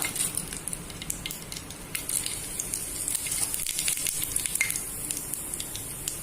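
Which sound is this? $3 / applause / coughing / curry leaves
curry leaves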